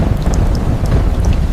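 Heavy rain pours in a rainforest storm with a deep rumble of thunder beneath, a loud, dense, continuous wash without voices.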